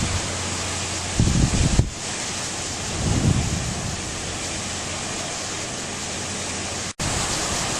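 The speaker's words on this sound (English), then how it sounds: "we've been getting steady winds out of the southeast for about the last hour" Strong hurricane winds from Hurricane Earl blow in Halifax, Nova Scotia, a steady roaring rush of wind noise with a couple of heavier low gusts and a brief dropout near the end.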